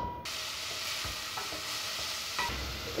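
Chopped onion hits hot olive oil in a pot and sizzles steadily, with a few stirring scrapes along the way, close and fairly quiet, with no talk.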